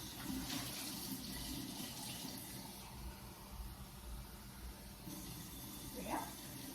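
Water runs steadily from a tap into a sink, a constant splashing rush at close range, with a brief gurgle toward the end.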